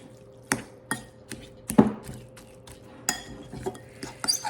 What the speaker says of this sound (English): mix this up really, really well